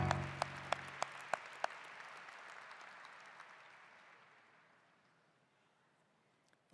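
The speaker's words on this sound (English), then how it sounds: "Let's give them all a great round of applause" Applause from an audience at a baccalaureate commencement ceremony for graduating student athletes, starting with a few sharp claps and fading to a quiet patter of clapping over several seconds.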